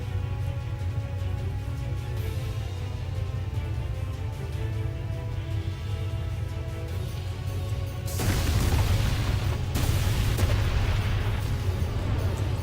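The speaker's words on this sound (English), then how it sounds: "And massive explosion." A massive explosion in Final Fantasy X erupts as a sudden loud, broad roar over a steady low rumbling game soundtrack, lasting several seconds.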